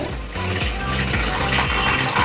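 Chicken stock pours steadily into a pot of chicken biryani, a continuous close gushing splash with slight rising fill tone, no talking.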